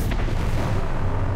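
Heavy booming weapon fire from starships in a StarCraft 2 space battle, a dense continuous rumble of blasts and bursts filling the whole stretch with no voices over it.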